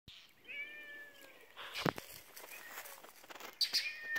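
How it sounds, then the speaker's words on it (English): A cat meows in a garden while a small bird chirps, several soft high calls at a moderate distance over quiet outdoor background, with a few brief rustles. "Kitty cat's trying to go after a bird."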